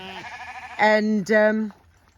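Two loud, wavering sheep bleats close by on a homestead, one right after the other, with a fainter bleat just before them.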